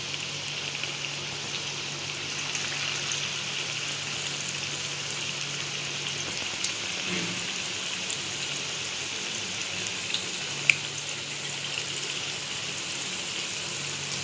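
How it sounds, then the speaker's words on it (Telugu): Rava bonda deep-fry in hot oil over a medium flame, giving a continuous, even sizzle and crackle like steady rain, with a few faint pops along the way. "ఇది మీడియం ఫ్లేమ్లో మనం గోల్డెన్ బ్రౌన్కి డీప్ ఫ్రై చేసేసుకుందాము"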